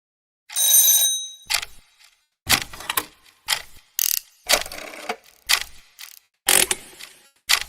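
Gears and clockwork mechanisms produce a bell-like ring, then a series of sharp, separate ratcheting clicks and clunks at an uneven rhythm, each followed by silence.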